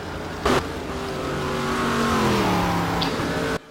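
Stock car engines roar around the Velopark circuit in the racing game Game Stock Car 2012, a loud sustained drone whose pitch climbs and bends as the cars accelerate, with a brief sharp burst near the start.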